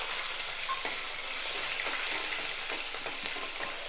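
Small onions sauté in hot oil with cumin and curry leaves, a steady close sizzle and crackle with faint stirring, no voices.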